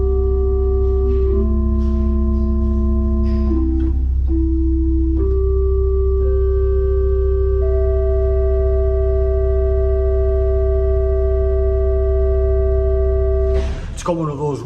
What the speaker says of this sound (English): it is a double stopped diapason.